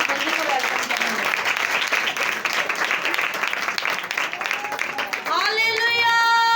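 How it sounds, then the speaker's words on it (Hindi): Congregation applause at a women's intercessory prayer meeting, a loud dense clapping crowd with voices mixed in, then a sustained musical or sung tone emerging near the end. "हम सब अपनी तालियों को बजाते हुए कलाम को वेलकम करेंगे"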